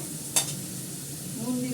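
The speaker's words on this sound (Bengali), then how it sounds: "এটাকে ভালো করে ফ্রাই করব।" Turmeric frying in a pan for a home-cooked meat dish: a faint, steady sizzle with one sharp utensil clink near the start.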